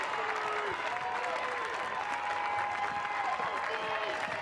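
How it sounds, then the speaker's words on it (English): At a college softball game between LSU and Missouri, the home Missouri crowd cheers and claps in a steady, roaring wash of noise while a commentator talks over it. "And now the Missouri crowd is on their feet."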